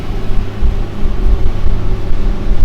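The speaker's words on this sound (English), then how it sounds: "Just giving her a burst at full throttle." A boat engine runs at full throttle and 100% load while weed is cleared from a paddle wheel, giving a loud, steady low drone with a humming tonal rumble and slight pulsing, with no talking over it.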